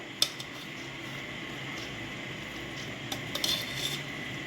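Cooked rice being stirred into veg pulao in a pot, with a utensil scraping and clinking against the metal now and then, a couple of sharper knocks near the start and a cluster toward the end, over a soft steady background.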